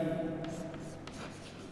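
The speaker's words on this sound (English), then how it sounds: "We will write the teams." Pen or marker writing team names on a board or paper while drawing up a sports fixture, a steady scratchy stroking sound heard close up, with faint background noise.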